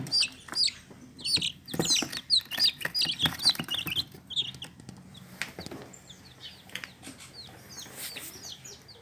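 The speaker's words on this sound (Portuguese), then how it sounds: "Pintinhos caipiras." Free-range chicks kept indoors away from the hen, peeping in rapid, high, overlapping chirps, busiest at first and then thinning to scattered calls with light rustling.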